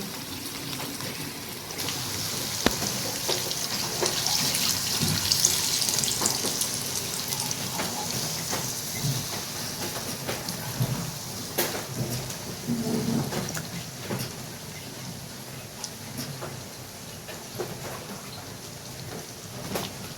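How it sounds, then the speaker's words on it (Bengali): Rain falls steadily outside, a continuous broadband patter with scattered drop ticks, fairly faint and even across the whole stretch, with no one speaking. "সেই সকাল থেকে শুরু হয়েছে বৃষ্টি, থামার নামই নিচ্ছে না"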